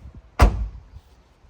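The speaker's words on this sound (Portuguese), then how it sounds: "Fechar aqui o porta-mala com cuidado." The boot lid of a Volkswagen Polo is shut carefully, giving one solid, close thump with a short low rumble that fades quickly, with nothing else heard.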